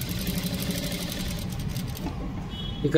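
Sewing machine stitching thread piping along the square neck of a blouse, a steady close-up motor drone with rapid needle chatter running throughout, fading slightly near the end.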